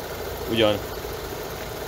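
An Opel car engine idles steadily after repair for a misfire fault, a low continuous hum with one brief voice over it.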